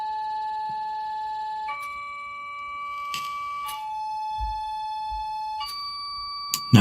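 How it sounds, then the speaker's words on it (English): Sustained electronic piano tones driving a vibrating metal plate, clear steady pitches that step between notes every second or two, with a few brief metallic clicks and a sharp knock at the end. "what happens when we make this plate vibrate from an electronic piano"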